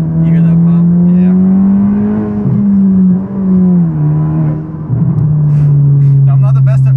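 A turbocharged Honda Civic Si with a big turbo and manual gearbox pulls hard from inside the cabin, its loud steady engine drone rising and dipping through shifts, with a brief break around the gear change.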